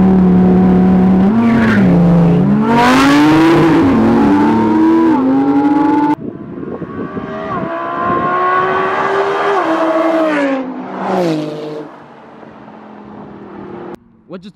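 A Porsche 911 GT2 RS and a Lamborghini Huracan Performante race side by side, engines roaring loudly and rising in pitch as they accelerate, with tires squealing and scrabbling for traction, fading as the cars pull away.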